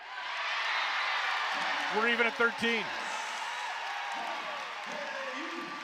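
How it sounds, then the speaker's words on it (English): College women's volleyball crowd at a Texas vs Kansas match, a steady loud roar of cheering filling the gym, with a commentator talking over it and a few sharp shoe squeaks in the middle. "it's loud, the crowd is getting involved at every single touch and point"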